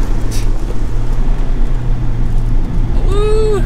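A 2023 Mazda Miata RF with a manual gearbox, driven on a winding mountain road, its engine droning steadily under road noise and then climbing sharply in pitch as the revs rise near the end.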